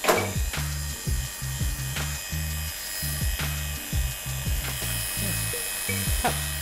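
Electric clippers shearing wool from a sheep, a steady buzzing drone with rhythmic chopping pulses as the blades bite through the fleece, loud and close, continuous throughout without talk.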